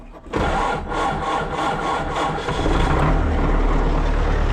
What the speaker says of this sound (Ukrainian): подивимося, заведеться він на холодну наш малий чи не заведеться